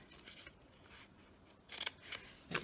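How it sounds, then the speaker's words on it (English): Scissors snip paper in a journal, a few soft, close cuts that start quietly and grow into sharper, louder snips near the end. Nobody talks over the cutting. "I just took my scissors and just cut this little"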